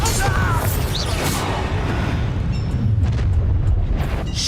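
Bombarda spell explosion in the video game Hogwarts Legacy, a dense continuous roar of blasting and rumbling debris that fills the whole stretch loudly, with crackling bursts layered on top.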